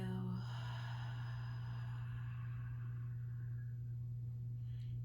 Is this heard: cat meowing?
no